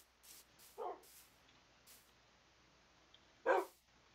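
Dog barks from the video game Minecraft, a few short separate yips spread across the clip, the last one loudest and closest, with no talk over them.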